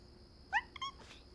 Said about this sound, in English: Your kitten is adorable.